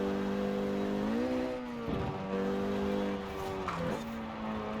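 A Renault Megane R26.R drives in Forza Horizon 4, its engine giving a steady, loud drone that climbs through the revs, dips on a couple of brief gear changes and settles back into a constant hum.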